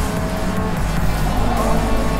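Toyota AE86 in Forza Motorsport slowing under braking for a corner, its loud engine droning continuously alongside a faint tire squeal, with no voices.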